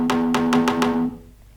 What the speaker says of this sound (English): It's just one perk sound and it sounds like this on its own.